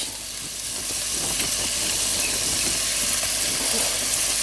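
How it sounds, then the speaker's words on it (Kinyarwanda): Rice tipped into a hot oiled pan and stirred, a steady close sizzle and hiss with faint scraping running unbroken throughout. "Hanyuma ndashyiramo wa muceri wanjye"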